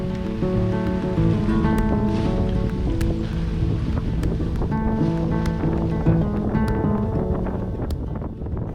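Rough seas wash and slosh around a sailboat underway, a continuous loud rush of waves and water against the hull with wind noise buffeting the microphone and tonal creaks or hums from the rigging throughout.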